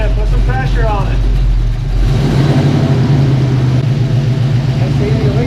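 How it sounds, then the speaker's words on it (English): A square-body truck's engine revs while power braking, starting near the idle and climbing into a sustained, throaty roar that pulses and holds. A voice can be heard briefly near the start. "Power brake it a little bit. Put some pressure on it."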